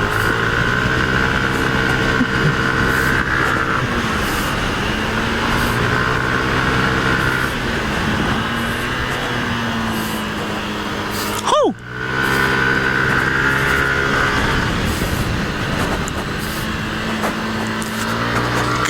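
A Yamaha Aerox scooter fitted with a turbo revs hard and holds a loud, droning engine note with shifting pitch, dips briefly midway as the throttle is released, then climbs back up.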